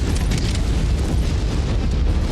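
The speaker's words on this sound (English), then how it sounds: "Ah, ammo explosion" An ammo explosion in the MechWarrior 5 video game makes a loud, dense rumbling blast that roars continuously without a break and drowns out everything else.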